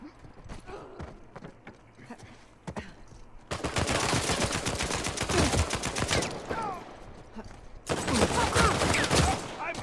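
Rapid bursts of gunfire from the video game Uncharted 4, loud volleys in two dense stretches with scattered single shots between them, and no talk over the shooting.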